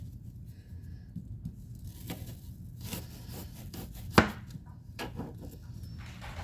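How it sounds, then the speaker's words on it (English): A knife chops through one onion on a cutting board in a home kitchen, giving faint, scattered taps with one sharper knock, quiet against a low background hum. "I'm chopping up one onion."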